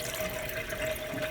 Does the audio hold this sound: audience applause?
no